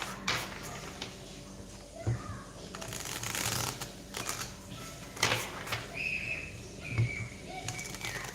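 An oracle card deck is shuffled by hand in a live reading, giving soft, steady riffling and card flicks close by over a faint background hum, with occasional thumps and a brief whistle-like tone.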